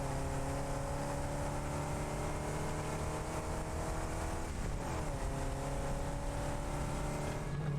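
A truck driving in the factory-building game Satisfactory, a steady loud engine drone with a shift in pitch partway through, alone without talk.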